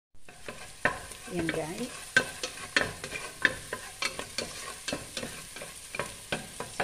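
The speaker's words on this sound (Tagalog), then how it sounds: "Then we put our garlic. Sauté lang po natin to hanggang sa mangamoy." Garlic sautéing in a hot pan, a steady close sizzle broken by repeated sharp scrapes and taps of a utensil stirring, with a brief spoken word partway through.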